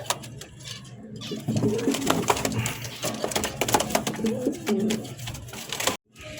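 A pair of Mili racer pigeons coo repeatedly up close in soft rhythmic bursts, with a faint mechanical clatter in the background and a brief drop to near silence at the end.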